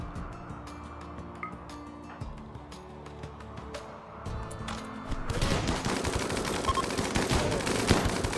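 Gunfire from the video game RimWorld: sparse ticking shots at first, then a dense, continuous rattle of automatic fire filling the second half.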